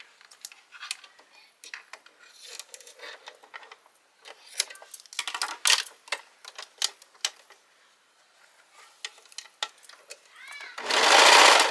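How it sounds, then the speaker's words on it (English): A serger with a faulty cutting knife runs in short, irregular bursts of rapid stitching chatter, stopping and restarting close by, before a loud, dense whirring burst at the end. "This serger has some knife issues I've been trying to"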